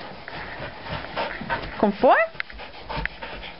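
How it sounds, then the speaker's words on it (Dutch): Dogs pant and whimper close by, with a short rising whine in the middle, while a person talks to them in Dutch. "Brave honden."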